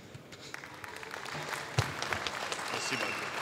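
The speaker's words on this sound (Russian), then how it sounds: "Еще раз аплодисменты этим бойцам." Audience applause for fighters at a combat-sports event, a steady dense patter of many hands clapping at moderate distance, with a brief louder burst partway through and some voices beneath.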